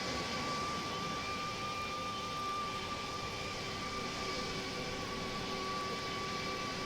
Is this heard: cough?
no